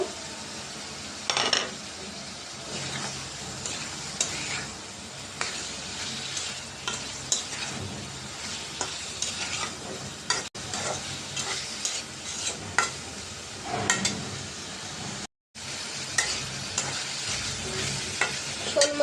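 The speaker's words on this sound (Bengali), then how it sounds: "মাছটা কষানো হয়েছে" Snakehead fish stir-fried in spices with potatoes sizzles steadily in the pan, broken by frequent scraping and clacking of a spatula against the metal, close and continuous with no talk.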